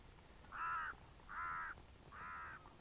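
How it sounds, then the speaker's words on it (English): Swans call in the distance as they take off or land: three faint, harsh honks, evenly spaced and alone against quiet outdoor background. "in the background there you can hear the swans. Don't know whether they're taking off or landing, but they're making a racket."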